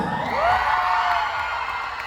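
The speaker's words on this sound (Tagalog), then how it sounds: "Yan ang gusto mo na palakpakan." Crowd at a live show at the 50th Sinulog festival in Kabankalan City lets out a roaring cheer with whoops and high shouts, a broad wash of voices sustained for about two seconds.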